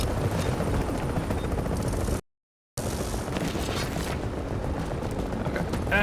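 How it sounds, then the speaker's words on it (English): A helicopter lifts away from an extraction point in Tom Clancy's The Division, its heavy rotor throb and mechanical rumble loud and close. Game ambience sits underneath, and a brief dropout to silence interrupts the sound partway through. "Okay, and the helicopter is leaving."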